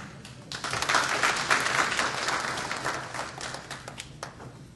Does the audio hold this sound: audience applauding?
yes